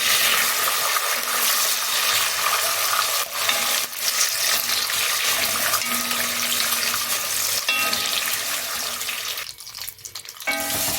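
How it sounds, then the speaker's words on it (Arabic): Vermicelli frying in hot oil in a pot for Egyptian koshari, a continuous loud crackling sizzle with occasional stirring scrapes, easing off near the end. "ننزل بقى بشويه شعريه كده بالشكل ده، حمرهم واخد لون حلو كده"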